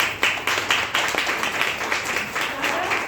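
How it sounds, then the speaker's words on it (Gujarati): Audience applause at a Women's Day celebration in Vyara: a crowd claps vigorously, with a dense, fairly loud patter and distinct sharp claps in a loose rhythm, sustained for about three seconds. "જોરદાર તાળીઓ થાય."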